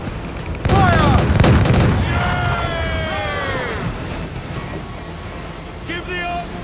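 Cannon fire booms from pirate ships in Assassin's Creed IV Black Flag, a loud volley of deep blasts followed by lingering rumble and splashes, with crew voices shouting throughout.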